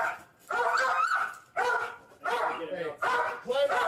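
A dog barks loudly and repeatedly during a police arrest, four sharp bursts with short gaps, heard close with a whimpering, yelping quality, mixed in with shouting voices.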